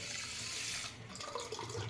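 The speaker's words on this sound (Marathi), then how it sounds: "त्याच्यामध्ये आता आपण पाणी ओततोय" Water pours into a pan of sugar over a low flame to start a syrup for gulab jamun, a soft, steady close trickle that shifts and splashes lightly partway through, faint and without talking.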